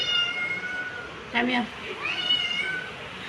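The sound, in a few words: cat meowing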